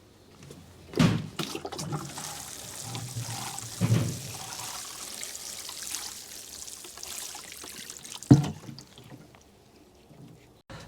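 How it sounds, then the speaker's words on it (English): Water poured and trickling through compost to soak sweet pea seeds, a steady wet splashing wash with a few louder bumps, fairly close. "You can see I'm soaking this completely"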